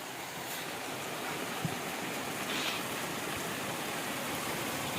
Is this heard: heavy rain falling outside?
yes